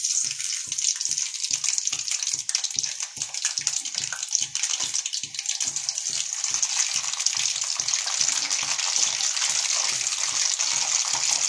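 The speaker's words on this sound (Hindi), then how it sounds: "पहले हम लोग ब्रिंजल फ्राई कर लेंगे क्योंकि इसको फ्राई होने में बहुत ही कम टाइम लगता है।" Small green brinjals frying in hot oil give a steady, close sizzle with rhythmic bubbling pulses running through the whole stretch, with no talking.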